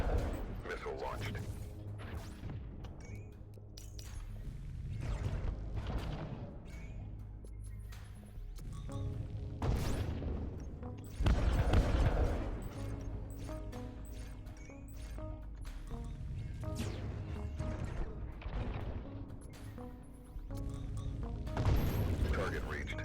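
Missile launch and impact in the video game Beachway Beta, with dense booming blasts, crashes and mechanical rumble in repeated bursts, loudest around the middle, under occasional talk.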